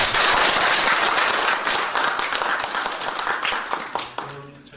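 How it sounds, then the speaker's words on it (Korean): An indoor audience claps at a Gwangju job-innovation school closing event, with dense, loud sustained applause that gradually thins out and fades near the end as a voice comes in. "큰 박수 한번 부탁드립니다."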